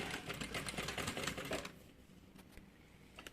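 A sewing machine runs steadily, stitching the seam of a changing pad that converts into a bag. It gives a dense, rapid mechanical rattle up close for about a second and a half, then drops to a quieter hum with a few light clicks.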